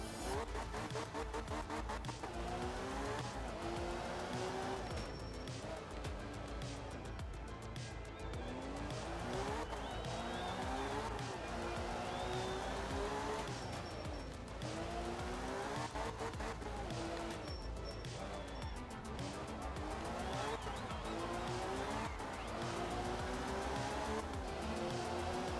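Rally car from art of rally, a 1980s-style semi-realistic rally game, driving continuously with engine drone and intermittent tire squeal, steady and loud throughout under layered game sound.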